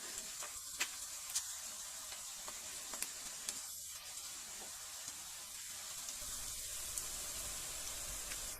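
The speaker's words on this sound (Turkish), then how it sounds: "Üzerine de biberleri ilave edip bir sürede bu şekilde kavuruyorum." Peppers and onions sizzle steadily in a hot pan, a constant crackling hiss with occasional stirring clicks, close up and without talk.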